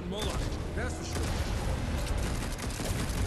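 Special shot attack in the video game Darksiders Genesis, a dense burst of booming, crackling gunfire-like blasts filling the whole stretch at moderate level.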